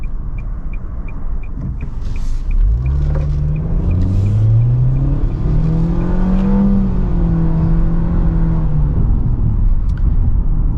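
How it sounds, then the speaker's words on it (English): A 2022 Nissan Kicks in sport mode pulls away hard from a stop, its engine note climbing steadily in pitch before levelling off, heard loud and close from inside the cabin with a constant road rumble underneath. "Let's go ahead and put it in sport mode and try another acceleration right here."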